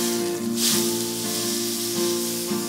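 Beef fillet for Beef Wellington sears in a hot pan with a steady, loud sizzle and hiss, a brief louder spit midway, over a faint steady background hum.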